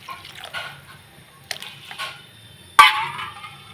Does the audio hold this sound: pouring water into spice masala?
yes